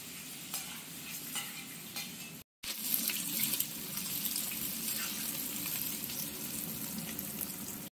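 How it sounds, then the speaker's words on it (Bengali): Garlic, ginger, green chili and onion fry in a home kitchen pan for egg pasta, a steady close hiss with stirring scrapes and a brief break near the middle before the sizzle resumes louder. "দিয়ে দেওয়া হলো কয়টা রসুন, এবার দিয়ে হচ্ছে আদা, এরপরে দিয়ে দেওয়া হচ্ছে লঙ্কা আর পেঁয়াজটা"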